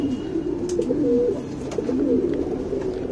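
Medium-sized guldar-coloured pigeons coo close by in a loft, giving several soft, throaty rolling calls that overlap and swell across the whole stretch.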